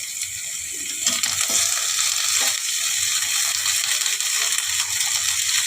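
Potatoes for aloo kudri curry frying in a pan with chopped onion, a steady bright sizzle running throughout with faint scraping and clinking underneath.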